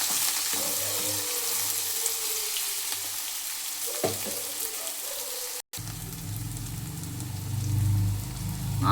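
Onions frying in a pan for a field bean curry, a continuous hissing sizzle with occasional stirring clatter, steady and close, briefly cut off before resuming with a deeper bubbling tone.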